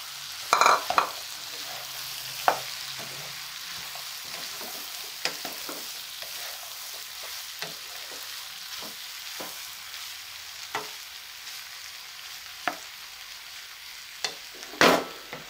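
Mixed winter vegetables with medium tomatoes and fried onions sizzle in a pan, a soft steady frying hiss broken by a loud clatter at the start and repeated spoon scrapes and knocks throughout, ending with another sharp clank.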